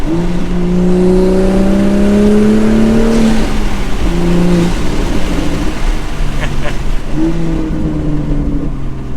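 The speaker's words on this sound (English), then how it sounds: "We got the catted downpipe, the air intake, and now the resonated touring exhaust." A Toyota Supra with a catted downpipe, air intake and resonated touring exhaust roars as it accelerates, the engine pitch climbing through several gear changes, loud and close, with a voice speaking briefly.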